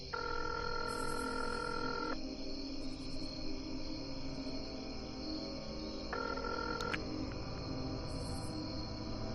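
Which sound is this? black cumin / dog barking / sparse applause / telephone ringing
telephone ringing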